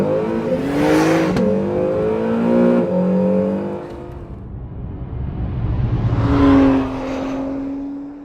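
An Acura car with Super Handling All-Wheel Drive accelerates hard, its engine note climbing through gears, easing off, then surging again in a second loud rising pull.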